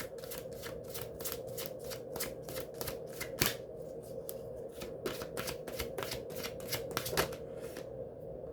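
Heal Yourself Oracle cards shuffled steadily by hand, a rapid train of crisp riffling bursts with a few sharper snaps, close and fairly quiet, with no talking.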